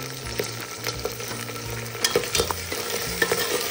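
Onion and garlic paste fries in hot oil for a vegetable biryani, a continuous close sizzle with rhythmic stirring scrapes and soft clinks of the spoon against the pan, and no voices.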